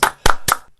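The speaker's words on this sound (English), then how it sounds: "Everyone, round of applause to Nicholas Koch." Applause for a guest being welcomed on stage: three quick, separate bursts of clapping, close and loud, with no talk over them.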